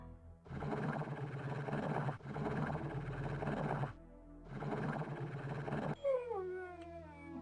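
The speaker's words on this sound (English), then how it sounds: "Aw, poor doggy." A dog in the video game Blood howls in three long, sustained bursts separated by brief gaps, then finishes with a high, wavering whimper; close and clear with no talking.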